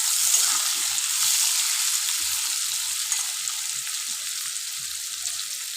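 Fish roe kofta mixture with turmeric frying hard in hot oil: a loud, steady broadband sizzle with faint irregular crackles underneath, continuous throughout and close up.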